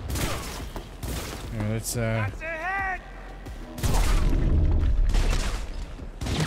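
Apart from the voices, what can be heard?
gunfire in Cyberpunk 2077 video game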